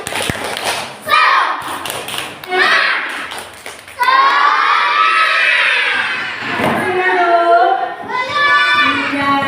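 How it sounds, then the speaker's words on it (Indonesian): Schoolchildren in a classroom do a spirit clapping chant, loud group shouting and chanting in bursts with scattered claps and thumps between phrases, rising again after short pauses. "supaya tidak ngantuk, kita tepuk semangat dulu yuk."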